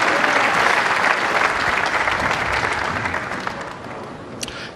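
A crowd in Barnsley erupts in dense applause and cheering after a strike at the Weber Cup bowling event, loud at first and then gradually thinning out.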